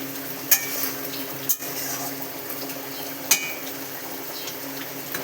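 Tengra fish curry simmers in a pan with a low bubbling sizzle while a utensil stirs it, giving a few distinct clinks and scrapes against the metal, close and moderately quiet.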